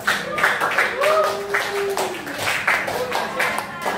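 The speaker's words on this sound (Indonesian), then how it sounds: "tepuk buat Nasya" A classroom of students claps for a classmate in brief, loose bursts, close and moderate, while voices talk over the clapping.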